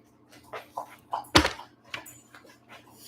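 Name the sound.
dog whimpering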